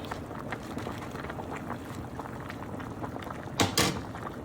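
Beef soup with corn and pechay simmers in a pot, a steady close bubbling with small irregular pops, broken near the end by two sharp knocks like a lid or utensil striking the pot.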